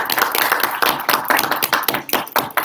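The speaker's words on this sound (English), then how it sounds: "Have a big round of applause." Applause for spelling bee contestants at a school event, a steady burst of many hands clapping close by, uneven and lively throughout with no talk.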